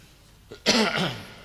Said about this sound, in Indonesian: seperti barusan saya batuk